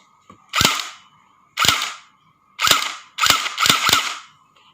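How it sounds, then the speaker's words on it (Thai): A toy M4A1 airsoft rifle fires six sharp snapping shots, spaced unevenly with a quick cluster near the end, close and loud with nothing else. "ผมโหลดลูกแล้ว ยิงดู"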